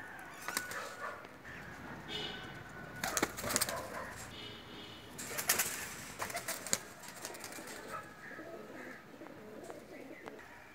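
Teddy breeder female pigeons coo and flutter in a loft, with scattered soft calls, wing rustles and a few sharper bursts over a busy, close background.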